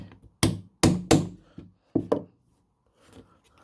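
A hammer strikes a metal hole punch, cutting a bolt hole in a rubber part: three sharp hits, a pause, then two more, close and loud, followed by faint shuffling.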